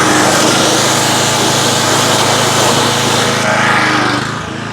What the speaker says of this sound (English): that is it for the YeewayVeh pressure washer with the swivel